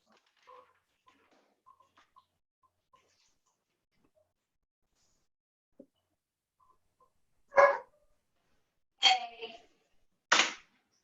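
A 13-week-old puppy gives three sharp, loud barks spaced about a second apart, near the microphone, after a stretch of quiet with a few faint ticks and small noises.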